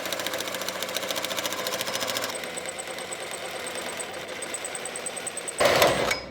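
A power tool cutting through car fender bolts and weld on an AWD four-rotor build, a steady buzzing mechanical whine that shifts pitch partway through, then a louder, harsher grinding burst at the end.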